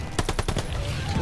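Suppressive machine-gun fire in the Call of Duty Vanguard campaign, set in a minefield and bunker battle: a quick burst of about five rapid shots, fairly faint, then a low rumbling tail.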